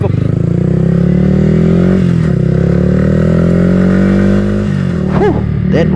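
Yamaha Nmax 155 and R15 motorcycles rev loudly on a temporary track in Kuching, a close sustained engine drone that holds high, briefly dips, and climbs again with a rising whine near the end.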